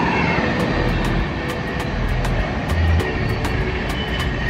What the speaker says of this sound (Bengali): ট্রেন গেল এখান থেকে, একদম পিছনে স্টেশন